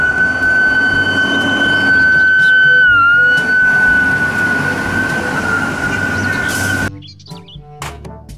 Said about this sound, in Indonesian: Mobil truk pemadam